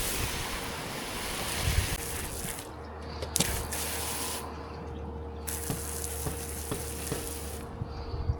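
A pressure sprayer applies moss and algae treatment across a roof, giving a steady broad hiss of spray that runs continuously for the whole stretch, with a low pump hum underneath and a few small knocks.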